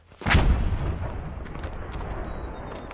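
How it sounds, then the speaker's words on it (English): A single heavy blast from a frag grenade in the Mud and Blood war game, a sharp close boom followed by a long rumbling, crackling tail that slowly fades. "I'm gonna clear him out with a frag grenade."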